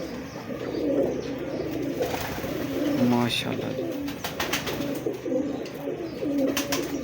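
High-flyer breeder pigeons coo repeatedly in soft, throaty bursts close by, with a person speaking briefly in Hindi-Urdu over the steady cooing.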